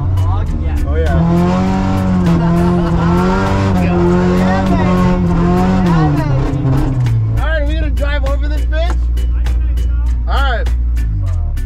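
A lifted mud truck, a modified hog, drives and revs loudly and close, its engine droning with shifting pitch, then settling into a steady low rumble, with squealing bursts near the end.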